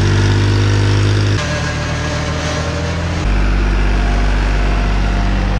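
A steady, loud 1994 Fiat 55-horsepower tractor engine idles with deep low rumble, shifting pitch twice as the revs change, running continuously with no voices.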